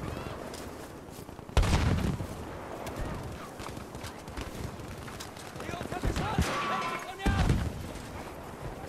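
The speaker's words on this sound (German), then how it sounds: "Ich glaube, der ist gerade explodiert." Explosion and gunfire in the video game Battlefield V, with a few sharp bursts standing out over a busy, continuous battle din.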